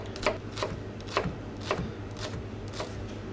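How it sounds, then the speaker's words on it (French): Knife finely mincing red onion on a board, a series of about six crisp, evenly spaced chops at a steady rhythm, close and fairly faint over a low background hum. "Ensuite, on va ciseler un peu d'oignon."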